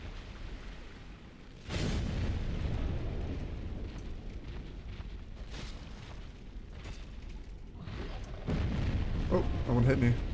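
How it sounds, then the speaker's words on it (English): Area-of-effect bomb exploding in the video game Dark Souls, with a heavy booming burst early on and another rumbling blast near the end, over ongoing low game noise. "That is also an AoE bomb."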